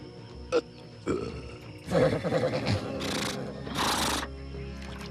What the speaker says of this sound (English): Horses! Where there are horses, there are men.